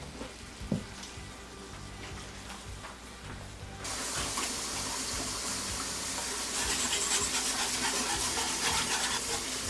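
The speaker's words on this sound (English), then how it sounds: "You have to go in with some more water." Water is poured into a pan of thickening gravy for Southern chicken fried steak, a sudden rise into a steady bubbling, hissing sizzle that continues close and loud to the end.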